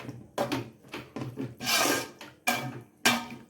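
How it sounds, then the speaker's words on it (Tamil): A spoon scraping through thick potato masala in a cooking pot for poori, a series of rough, uneven stirring strokes close by with short pauses between them and no talking. "அந்த கட்டி இல்லாத மாதிரி கிண்டிக்கணும்"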